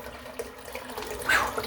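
Hot water runs steadily from a tap into a bathroom sink, a continuous close splashing hiss with a brief louder surge near the end.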